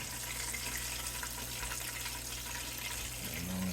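Water running steadily into a kitchen sink as chicken wings are drained, a continuous close rushing with a faint rattle near the end.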